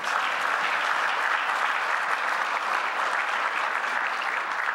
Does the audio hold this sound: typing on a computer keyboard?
no